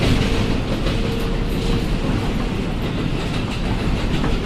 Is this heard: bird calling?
no